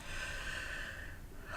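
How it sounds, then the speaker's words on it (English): One long, deep breath drawn in and let out slowly through the nose and mouth during an emotional tapping exercise, close and breathy with a soft rush at the end. "Another nice deep breath."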